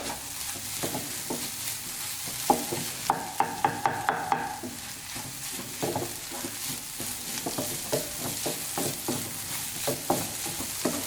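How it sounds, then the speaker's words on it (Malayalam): Egg bhurji stirred and cooked dry in a pan on a medium flame: a steady frying sizzle runs throughout, broken by rhythmic scraping strokes and a burst of sharper clicks partway through, with no voices. "ഞാനിതിപ്പോൾ മീഡിയം ഫ്ലെയിമിൽ വെച്ചിട്ടാണ് കുക്ക് ചെയ്തെടുക്കുന്നത്"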